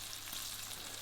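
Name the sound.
bone-in pork searing in a pan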